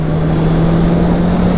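A 2023 Honda CBR650R sport motorcycle in third gear at about 80 km/h and 6,000 RPM on a track, giving a loud, steady, close engine drone with a constant pitch and no speech.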